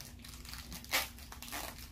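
Faint crinkling of a plastic wrapper being handled, with one sharper crackle midway, close and quiet.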